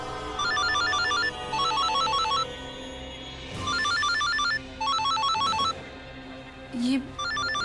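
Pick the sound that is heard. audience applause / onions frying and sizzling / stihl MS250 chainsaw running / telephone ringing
telephone ringing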